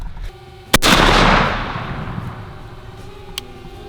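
A single loud, close shotgun blast from a 3.5-inch Winchester 2-shot shell, a sharp crack followed by a long rolling boom and decay outdoors, with a faint second knock near the end.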